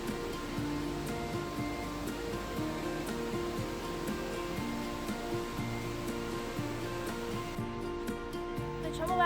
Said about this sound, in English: Now we're gonna go outside, walk around, and see the waterfalls coming out of the caves and into the valley.